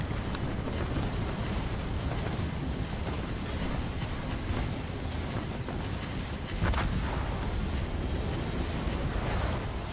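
Bismarck secondary guns firing in World of Warships Legends, a dense continuous roar of overlapping booming gunfire and blasts filling the whole stretch, loud and constant with no pauses or talking.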